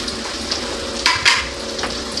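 Garlic sizzles in a frying pan alongside ginger while mussels are being cooked at home. A steady, close hiss runs throughout, with a couple of brief louder crackles and light stirring, and no talk.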